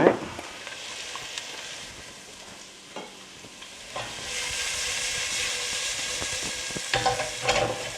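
Onions sizzle and crackle in a hot pot for a Guinness stew, with intermittent scraping stirs and clinks of a utensil; the frying hiss swells louder in the second half, no voices.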